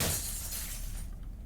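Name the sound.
windows being smashed in the video game Cataclysm: Dark Days Ahead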